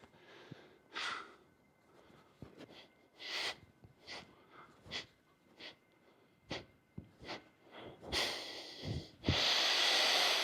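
Breathing during energy exercises: a series of sharp, forceful exhales and snort-like breaths at irregular intervals, close and fairly loud, ending in a longer, noisier rush of breath.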